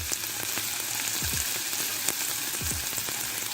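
Butter sizzling in a hot pan for a vegan ackee quesadilla, with coconut milk about to go in: a steady close hiss of frying with small pops and crackles throughout.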